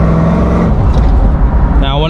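A 1981 Pontiac Firebird with a 350 small-block Chevy V8 accelerates, heard up close from inside the car as a steady, loud engine drone that roughens and builds as the revs climb.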